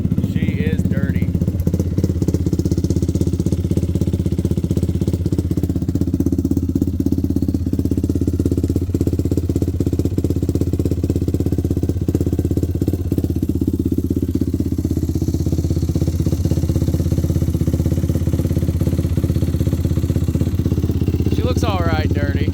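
After a cold start, a built Yamaha YFZ 450R quad with a 480 big bore engine idles in a steady, loud, close, rumbling rhythm that stays even from start to finish.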